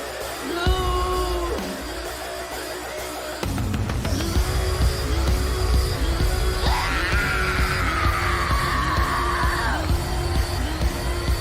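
A strained scream sung in a Eurovision 2024 song for Ireland, sustained and pitched over loud, pulsing music with shifting, wailing tones.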